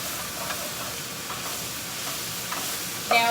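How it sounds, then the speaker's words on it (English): A wooden spoon scrapes across the bottom of a skillet of browning mushrooms and onions, a steady sizzle and soft scraping rasp running throughout, with a brief brighter clink near the end. "I am just using my wooden spoon to scrape the bottom of the pan to get all that yummy brown stuff off"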